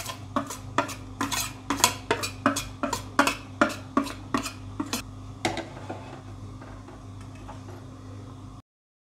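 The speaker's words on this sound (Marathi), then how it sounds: "ही साखर विरघळेपर्यंत आपण चांगले हलवत राहू" A spoon scrapes and knocks rhythmically around a pot while stirring sugar into sheer khurma until it dissolves, a dozen evenly spaced clinks over a low steady hum, then a pause and a few slower strokes, with no talking.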